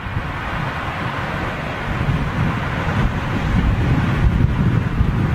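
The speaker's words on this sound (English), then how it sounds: "direct headwind now" Strong direct headwind buffets an outdoor microphone near Heathrow as planes pass, a steady dense roar of low rumble that swells louder toward the end, with no voices.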